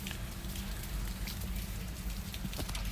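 Steady rain falls with a dense, even hiss and scattered drops spattering on surfaces nearby, continuous throughout with no voices.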